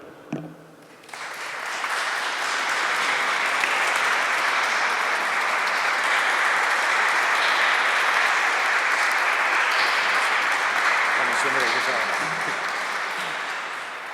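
Lecture audience breaking into sustained applause after a talk, starting after a brief spoken moment and holding dense and loud for over ten seconds before easing.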